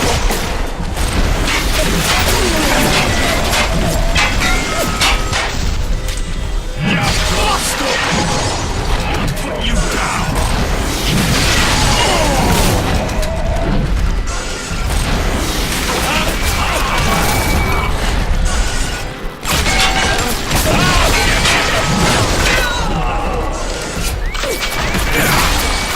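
RPG rockets in Bioshock fire and explode as loud, continuous crashing blasts over a chaotic battle din, with a voice talking underneath.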